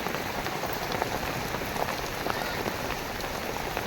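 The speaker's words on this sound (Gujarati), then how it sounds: "બહુ વરસાદ છે" Heavy rain falling steadily, a loud continuous wash of drops hitting surfaces close by, with no pauses throughout.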